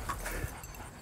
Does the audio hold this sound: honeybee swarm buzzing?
no